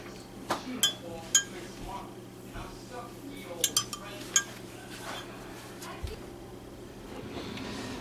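Metal spoon clinking and scraping against a pan while collecting leftover turkey broth for gravy, a handful of sharp close clinks and brief scrapes spread across the clip over a low kitchen hum.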